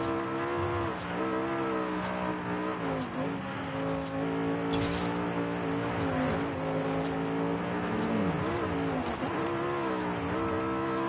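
A race car engine in Forza Horizon 5 roars continuously at high revs, its pitch climbing and dipping through gear changes, with brief tire squeals and faint talk underneath.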